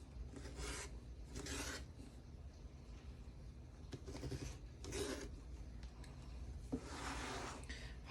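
Rotary cutter slicing quilt block fabric along a ruler, several short rasping strokes spaced a couple of seconds apart, close and fairly quiet with no talking.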